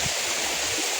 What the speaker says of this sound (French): près des cabanes du Hérisson, où l'eau sort d'un peu partout.